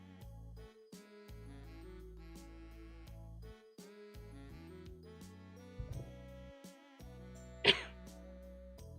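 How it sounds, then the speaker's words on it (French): A single short cough or throat-clear near the end, close and fairly loud, over steady soft background music. "Désolée, je tousse."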